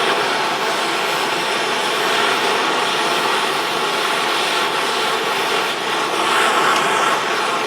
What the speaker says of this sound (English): And we're using MAP gas. You can buy this anywhere. A lot more heat than propane.